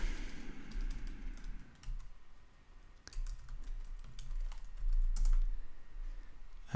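Credentials go into a computer keyboard in bursts of quiet, close key clicks, with short pauses between runs of typing.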